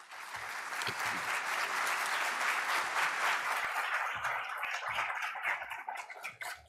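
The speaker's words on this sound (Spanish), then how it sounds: "Fuerte aplauso para el licenciado Luis Valdés Veras, director general de Impuestos Internos." An audience at a tax congress in the Dominican Republic applauds Luis Valdés Veras, director general of Impuestos Internos, with a sustained, full round of clapping that thins slightly toward the end.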